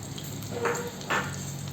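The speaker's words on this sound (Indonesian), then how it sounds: "Di sini saya ada 25 gram teri yang akan saya goreng hingga kering ya." A small batch of dried anchovies (teri) fries in hot oil in a home kitchen, giving soft sizzling bursts that swell twice over a quiet background hiss.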